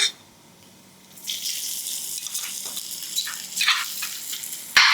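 Chili-garlic thecha with fennel seed tempering sautéing in hot oil for a bhindi masala, a broad steady sizzle that swells after a quiet start and carries on near and loud with brief surges.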